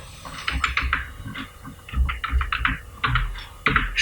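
Keys clatter on a computer keyboard in short irregular bursts of close, crisp taps over a faint hum, typing a command into AutoCAD with no one speaking.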